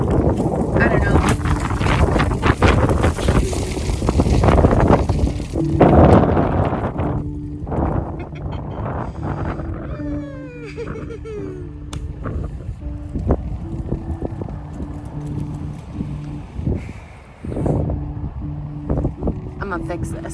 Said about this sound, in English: The wind is wild today.